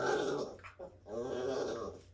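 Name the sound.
Australian cattle dog puppy growling when picked up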